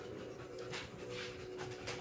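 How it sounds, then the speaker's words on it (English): A 50-pound bully dog pants quietly nearby while looking for food, a soft rhythmic breathing sound alone in a quiet indoor room with a TV setting. "my 50-pound bully dog that's looking for something to eat"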